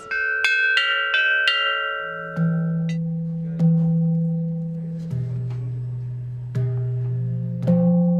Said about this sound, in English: They gave us these little wooden hammers and let us play the different bells.